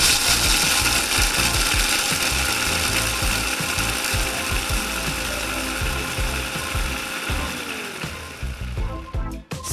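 Roasted peanuts, 50 grams, grinding in a kitchen grinder for klepon filling: a loud, continuous mechanical rattle and whir running steadily for most of the clip, easing and sputtering near the end.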